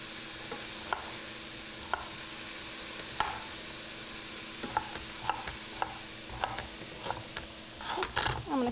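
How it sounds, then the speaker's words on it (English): Mixed vegetables stir-frying in a pan, a soft steady sizzle punctuated by sharp spatula scrapes roughly every second, growing busier with rapid clatter near the end. "Let's stir that up a little bit."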